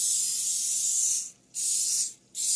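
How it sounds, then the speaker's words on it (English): Olive oil cooking spray hisses from a can in two close bursts, a long spray then a short one, each separated by a brief pause, heard alone nearby while greasing a baking pan for sloppy joe cornbread. "this with olive oil cooking spray. Just so it don't stick."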